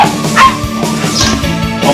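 A dog barks a few times in quick, uneven bursts, fairly close and loud against a busy background with music-like tones.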